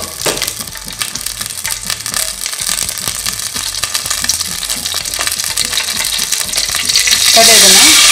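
Mustard seeds popping and crackling in hot oil in a pan for a traditional Tulu-style neer pundi, a dense busy sizzle with sharp pops that grows louder near the end.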